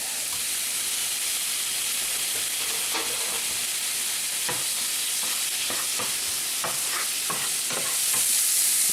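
Oysters frying under bacon in a hot pan for Hangtown fry, a loud continuous sizzle and hiss with scattered utensil scrapes and taps, swelling slightly at the end, no talking.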